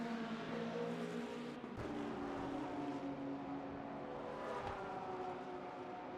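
A race car engine drones steadily at high revs, with brief dips and surges as it shifts, heard from a distance without any voices.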